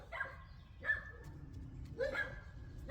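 Dogs bark in a few short, sharp yips off in the background, quiet and spaced out over a low steady hum.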